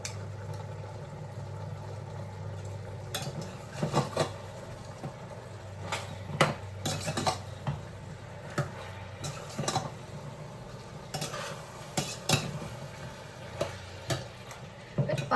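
Chicken and tomato sautéing in a pan with onions for kadai chicken, a steady low sizzle with intermittent stirring scrapes and clatters close by, no talking.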